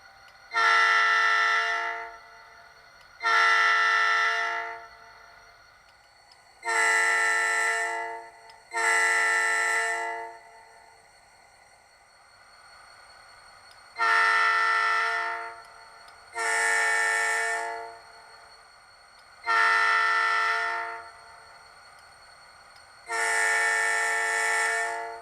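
An HO-scale Athearn GP40P-2 model locomotive's DCC sound decoder blows eight loud horn blasts, each about a second long with a sharp onset, separated by short gaps, with no voices.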